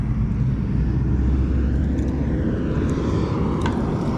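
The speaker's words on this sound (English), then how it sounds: "Then I got a loud truck behind me." A loud county work truck rumbles past near a creek, a heavy, steady low roar that stays close and powerful throughout, with no voices.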